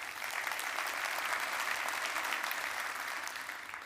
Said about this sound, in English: So maybe a big round of applause for ICT for making this happen.